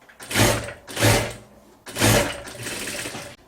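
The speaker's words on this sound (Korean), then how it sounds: "뒤집어서 한 번 더 박아주시면 돼요" A sewing machine runs in three bursts, stitching a seam along fabric for a piano chair cover, its motor whirring loud and close with brief pauses between runs.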